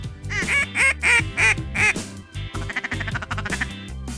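Mallard ducks quack loudly and close in a rhythmic run of repeated calls, followed by a quicker, softer series, during a Nebraska waterfowl hunt, with no talking over them.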